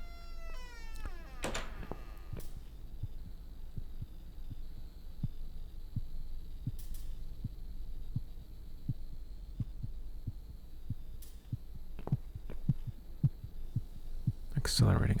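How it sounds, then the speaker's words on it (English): A heartbeat speeds up in the narrative horror video game The Cat Lady. Steady low thumps repeat throughout, with a few brief higher game sounds scattered over them and no talk. "Accelerating heartbeat."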